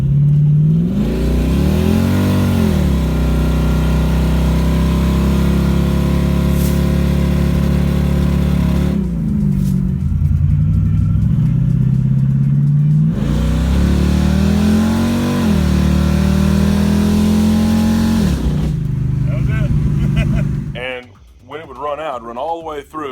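A 383 stroker V8 in an '87 S10 Blazer, fitted with a carburetor that runs out of fuel at full throttle, revs hard and loud in repeated long pulls with rising pitch, then drops away near the end.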